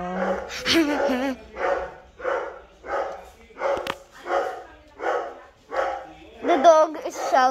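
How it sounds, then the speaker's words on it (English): A large dog barks repeatedly at strangers, a regular series of loud, close barks spaced about every half second to a second, with a brief voice near the end. "The dog is shouting at us."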